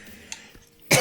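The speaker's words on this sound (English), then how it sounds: "sorry about the coughing" A single sharp cough bursts out near the end after a quiet stretch with faint soft noises, loud and close, during a hockey video game franchise session.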